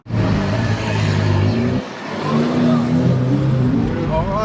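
A Lamborghini Huracan with an aftermarket exhaust pulls up, its engine droning with a low tonal rumble that dips briefly then rises again, close by and loud, with people talking over it.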